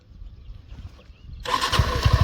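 A Suzuki V-Strom SX 250 motorcycle starts after a quiet moment, catching abruptly and settling into a loud, close, throbbing idle.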